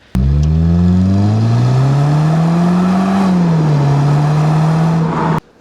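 Engine of a Mercedes SLK 200 with a 1.8 litre supercharged inline-4, revved once close up, the pitch climbing, holding with a supercharger whine, then easing before cutting off abruptly.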